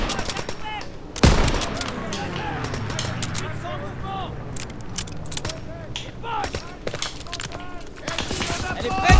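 Machine gun fire and other gunshots in a World War II video game battle, with sharp bursts and ricochet-like whistles amid steady combat noise, under players talking.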